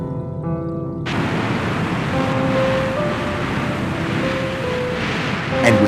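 Ocean waves wash onto a shore in a steady, loud broadband roar that swells in after a brief musical opening, with a faint tonal hum running beneath and a slight surge near the end.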